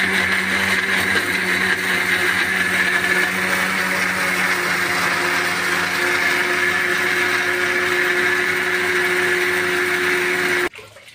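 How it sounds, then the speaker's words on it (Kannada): Mixer grinder blending asafoetida, bilimbi, chillies and grated coconut into a smooth paste for GSB patrode, a steady loud whirring drone running continuously, then cutting off abruptly near the end. "ಸೊ ಹಿಂಗು, ಬಿಂಬುಲಿ, ಅದೇ ರೀತಿ ಮೆಣಸು ಹಾಗೂ ತೆಂಗಿನ ತುರಿ, ಎಲ್ಲವನ್ನ ಒಟ್ಟಿಗೆ ಹಾಕಿ ಈಗ ಒಳ್ಳೆದಾಗಿ ನಯವಾಗಿ ರುಬ್ಬುವಂತ"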